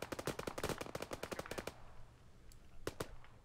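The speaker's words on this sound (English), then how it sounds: "What are they shooting at?" Rapid automatic gunfire in the military shooter Arma 3 rattles off in a fast run of sharp shots, then stops and leaves a few scattered single shots over a quieter background.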